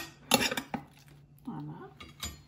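A knife cuts through a toasted, crusty croque monsieur topped with cheese on a plate, producing a few sharp clinks and crunchy scrapes of metal against crockery, close and fairly quiet.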